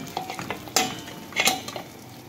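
Okra coated in gram flour cooks over low heat in a covered pan, giving a soft ongoing sizzle broken by a few scraping stirs and light clinks of a utensil against the pan.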